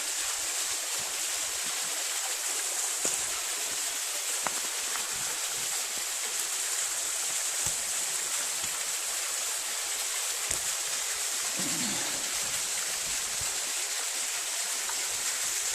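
A waterfall at the Nundaweo water blessing site, heard as a constant close hiss of rushing, splashing water that fills the whole stretch evenly, with no voices over it.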